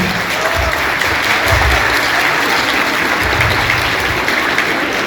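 Strong, sustained audience applause at a theatrical wedding ceremony, dense and even from start to finish, with some crowd murmur beneath the clapping.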